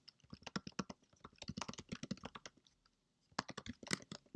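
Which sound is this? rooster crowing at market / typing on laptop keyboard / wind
typing on laptop keyboard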